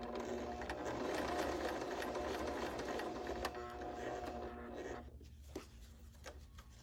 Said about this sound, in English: I'm sewing on a curve, so there's all this extra fabric that's starting to pull